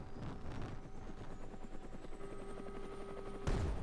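A helicopter in the Brick Rigs video game drones steadily with a rapid rotor chop and a faint rising whine, ending in a sudden louder burst.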